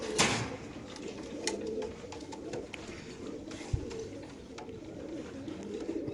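Racing pigeons cooing in club cages, soft repeated low coos close by with a few faint chirps and light rustling, no talk.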